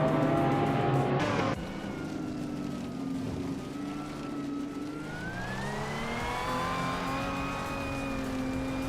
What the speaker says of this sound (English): Newts is driving a 2018 Ford Mustang Shelby SS, known for its muscle and raw power.